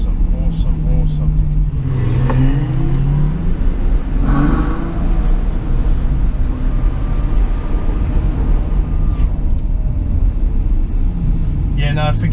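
Ferrari GTC4Lusso engine rumbling as the car accelerates on city streets, a steady loud drone under road noise with a voice talking over it.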